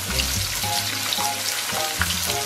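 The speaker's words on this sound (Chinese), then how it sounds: "轻轻的煸炒，" Scallion, ginger and garlic stir-frying in oil in a wok, giving a steady loud sizzle throughout with soft scraping strokes of a spatula, close up and without speech.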